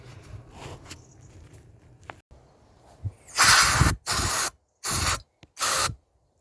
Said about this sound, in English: Bit of contact cleaner.